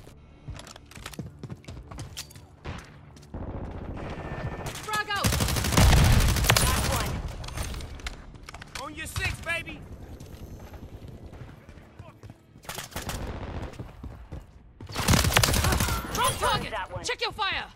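Bursts of automatic gunfire in Call of Duty multiplayer Kill Confirmed, loud rattling volleys and single shots mixed with game callouts and voices talking over the action.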